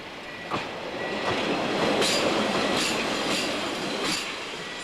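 A Pacer diesel multiple unit passes on the line between Lincoln and Nottingham, a steady broadband rumble with rhythmic clickety-clack wheel beats on rail joints, sustained and close throughout.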